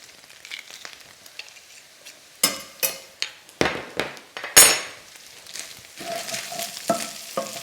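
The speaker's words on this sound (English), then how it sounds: "let's add our garlic in" Garlic sizzles with minced meat in a pan for baked pasta, a steady frying hiss punctuated by sharp clanks and scrapes of a utensil stirring against the pan, close by.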